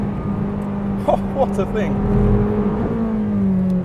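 A Ferrari 458 Speciale on a race track revs as it power-slides out of a hairpin, its engine note droning and rising with throttle, while a man exclaims over it close by.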